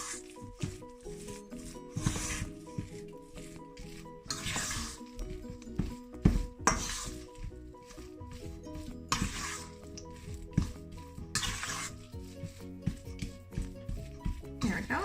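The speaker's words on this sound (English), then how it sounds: "just give it a nice good stir just to get everything mixed together" Thick banana breakfast cookie batter being stirred in a bowl, giving a steady scraping, clicking rhythm that runs beneath a layer of background music.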